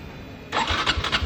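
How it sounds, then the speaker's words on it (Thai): A Honda Wave plug-in hybrid motorcycle engine abruptly starts on its own and settles into a rhythmic, pulsing idle, close by, after a moment of quiet electric hum. "เครื่องยนต์ก็จะติดมาช่วยนะครับ"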